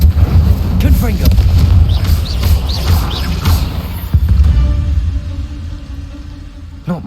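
Fiery blast from the Confringo spell in the video game Hogwarts Legacy, a heavy low boom rumbling amid dense game effects and layered combat noise, loud throughout with another thump near the end.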